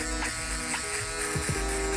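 An electric shaver buzzes steadily against the scalp while finishing a skin fade, a continuous close hum with slight shifts in pitch as it passes over the hair.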